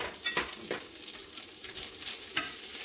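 Onions being stirred in a frying pan with adobo and a little Chinese spice, a soft sizzle running underneath several sharp scrapes and clacks of the utensil against the pan at irregular intervals.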